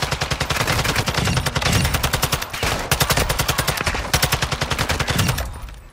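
Rapid automatic gunfire from a game in DMZ mode (Season 3, Koschei Complex), loud and close, with dense rattling bursts running almost continuously and only brief gaps between them.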